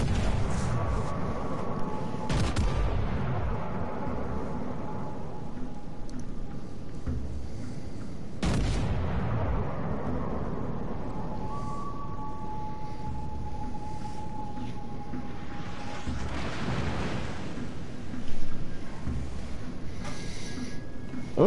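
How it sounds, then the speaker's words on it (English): Large naval guns boom in the World of Warships Legends video game, two heavy blasts several seconds apart, each followed by a long rumbling decay over engine and ambient game noise. "Dang, those some big cannons."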